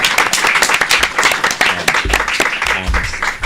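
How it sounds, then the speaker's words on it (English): Applause for a panel debate breaks out as brisk, uneven clapping from a room audience, with individual claps distinct and some speech overlapping near the end. "join me finally in giving our panel a round of applause"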